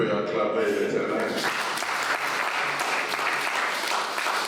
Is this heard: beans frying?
no